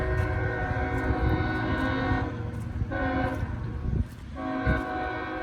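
A southbound train with six locomotives, including a cabless slug and two Union Pacific distributed power units, rumbles as it approaches, with steady loud engine drone and sustained horn-like tones building over several seconds.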